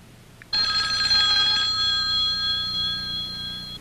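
A telephone bell rings with a loud, steady electronic trill that starts abruptly and holds at full volume, heard alone with no talking.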